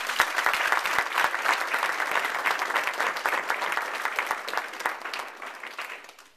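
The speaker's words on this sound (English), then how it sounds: "Would you give him a round of applause," Sustained applause honoring Interim Police Chief Lester Hargrove, dense and steady clapping from an indoor audience, fading slightly toward the end.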